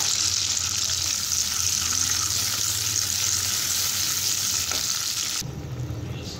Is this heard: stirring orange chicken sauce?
yes